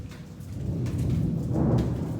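A neighborhood thunderstorm, a deep rolling rumble of thunder swelling over the steady hiss of rain, with no one talking.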